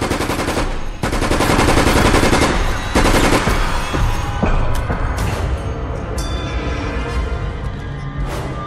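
Gunfire in Resident Evil Operation Raccoon City, with loud sustained automatic bursts and rapid shots rattling almost without pause for several seconds, then easing into scattered fire and game effects.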